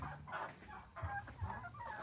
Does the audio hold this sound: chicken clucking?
yes